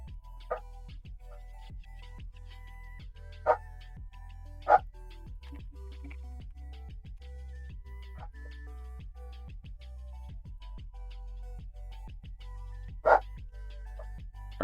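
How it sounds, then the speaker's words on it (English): A dog barks intermittently in the background, with a few sharp yips standing out over a steady low hum, isolated barks spread across the stretch rather than a continuous run. "What's he barking about"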